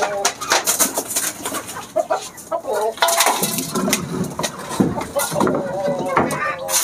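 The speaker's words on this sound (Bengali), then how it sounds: "আমার লফটে দেশি মুরগির পাশাপাশি কোয়েল পাখি, কবুতর সবই কম বেশি আছে।" Domestic chickens cluck in a loft shared with quails and pigeons, with pigeon coos and assorted bird calls mixed in, close by and busy, while someone talks over them.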